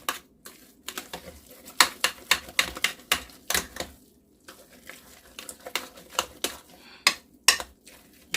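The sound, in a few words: stirring food in a pot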